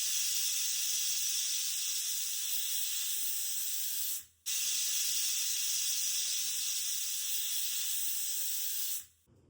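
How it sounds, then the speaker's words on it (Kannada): Pressure cooker on the stove, cooking a rice pulao, releasing a loud, steady steam hiss close by. It breaks off briefly near the middle, resumes, and stops near the end. "ಒಂದ್ 2 ಸೀಟಿ ಮಾಡಿಸ್ಕೊಳ್ಳೋಣ."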